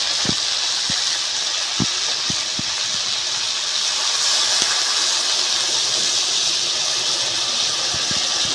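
Water poured into a hot pan of green tomatoes sets off a loud, steady hiss of steam and sizzling that fills the whole stretch, with occasional small pops and clinks close by.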